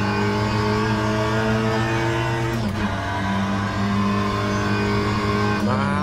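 A Mini Cooper S Mk1 in rFactor 2 drones along under steady engine load, with two short dips and re-rises as gears change, even and constant in level with no talk.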